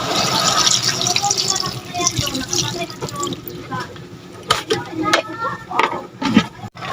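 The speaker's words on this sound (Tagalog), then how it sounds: "nalagyan ko ng tubig" Water splashes and trickles into a pot, with bubbling and clinking, while someone talks over it.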